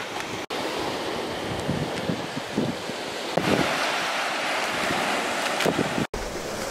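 Ocean surf rolls onto a seashore at Ta Kae Hua Ngu beach, a steady broadband roar of breaking waves mixed with gusty wind buffeting the microphone, with no talking.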